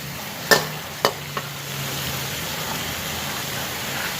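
Boiled offal with garlic hits a hot pan, a couple of sharp clanks of a utensil followed by a steady low frying hiss that continues quietly to the end.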